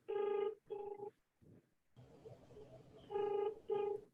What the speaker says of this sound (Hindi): कोई नहीं, उसको फोन लगाता हूँ।